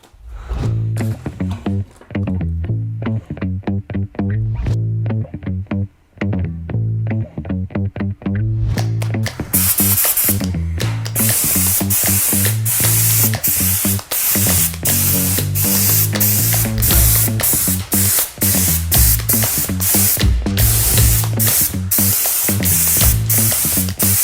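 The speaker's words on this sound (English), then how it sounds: "I decided I like to go with my spray gun and a high solid clear coat" A spray gun applying high-solids clear coat to a wooden mountain bike helmet hisses in short repeated bursts that give way to longer, louder continuous spraying, close up.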